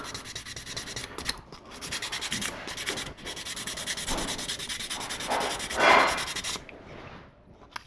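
Wet sandpaper rubs over thick filler primer on a 1/72 scale model kit in steady back-and-forth strokes, close and scratchy, with a few short pauses and no talk.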